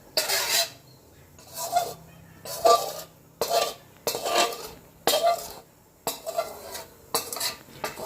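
Repeated harsh metallic scraping of a spatula against a wok while making Thai green chicken curry, in about eight separate strokes spaced evenly, close and fairly loud with quiet gaps between.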